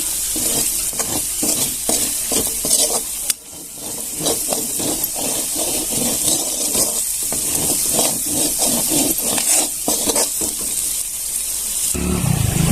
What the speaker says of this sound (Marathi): आता हे मसाले चांगले परतले आपल्यावाले याच्यावरच आपण घालूया दोन मिरच्या चांगलं परतून घेऊया